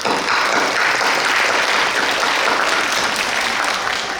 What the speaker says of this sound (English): big applause to Nithila and Anu